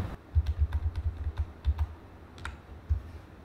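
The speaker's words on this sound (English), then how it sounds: "press the control key on your keyboard and then press the arrow" Control and arrow keys tapped on a computer keyboard during CAD pattern drafting, a quick run of close, soft key clicks in two clusters followed by a single later press, with no talking.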